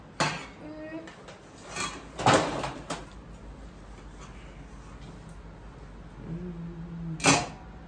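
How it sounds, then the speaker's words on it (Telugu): Dishes being put away: scattered clanks and clatters of pots and plates set down, a few sharp knocks spaced apart, with faint voices between. "ఇదిగోండి ఇప్పుడు గిన్నెలు అయితే సదురుతున్నాను."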